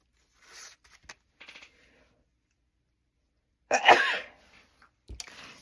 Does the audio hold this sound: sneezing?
yes